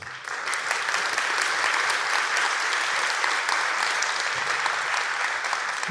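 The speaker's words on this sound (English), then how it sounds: "Give yourself a round of applause." Conference audience at a closing keynote breaks into sustained applause, a dense wash of clapping that stays steady and loud for the full stretch with no speech over it.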